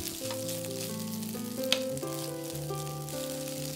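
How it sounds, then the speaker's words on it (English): Rice and egg stir-frying over high heat for Japanese-style pork fried rice, a continuous sizzle with a sharp scrape of a ladle midway, set under constant background music without speech. "Stir fry on high heat and separate each grain."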